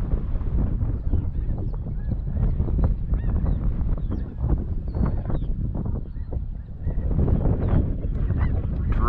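A flock of snow geese honks during a pass-shooting hunt, with dense overlapping calls running throughout under steady wind noise on the microphone.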